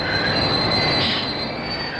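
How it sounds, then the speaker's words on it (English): Railway mail car train rolling along the tracks, a loud continuous rumble with high-pitched wheel squeal sustained throughout, close by and without voices. "a mail car will roll into Washington with its last load"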